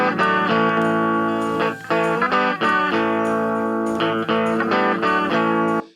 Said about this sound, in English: So there's a twangy part that sounds like this.